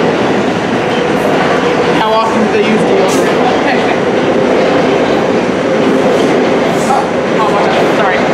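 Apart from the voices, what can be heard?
train passing through station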